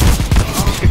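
Rapid gunshots in a competitive shooter game, several sharp bursts in quick succession within a second, loud and close with no speech over them.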